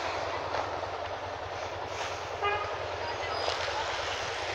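In rainy Fortaleza traffic, a brief vehicle horn toot sounds once, close by, over a steady wash of road and rain noise.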